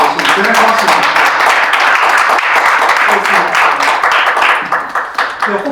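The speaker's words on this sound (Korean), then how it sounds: "우리 함께 큰 박수로 같이 진행해서 마치도록 하겠습니다" The audience at a policy seminar of an anti-corruption academic society claps loudly and continuously, a dense, steady round of applause in a hall that tapers slightly at the end.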